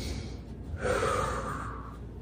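One audible inhale through the mouth before a kettlebell deadlift, drawn in over about a second with no talk over it.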